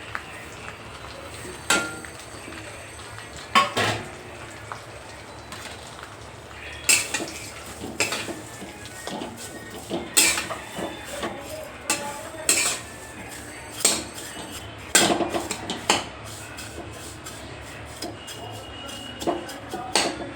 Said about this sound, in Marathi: तेलामध्ये तुपामध्ये शेव भाजून घ्यायच्या, शेवळ्या भाजून घ्यायच्या।